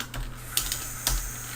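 Keys tapped on a computer keyboard while writing code for a class, a few soft, close keystrokes with quiet gaps between them and no voices.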